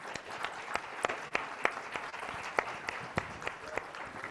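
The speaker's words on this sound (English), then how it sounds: "If we can have a round of applause for our panelists." A small conference audience at a hemispheric security event gives panelists a sparse round of applause, individual claps distinctly audible at an uneven rhythm over a soft room hush, fairly quiet and distant.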